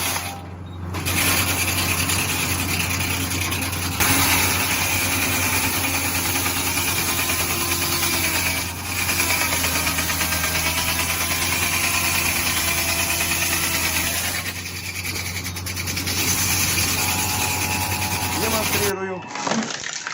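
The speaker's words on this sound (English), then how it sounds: "This firewood splitter is an absolute beast." An electric firewood log splitter runs with a steady, loud mechanical drone and grinding rasp near the microphone, continuing for the full span before cutting off abruptly near the end.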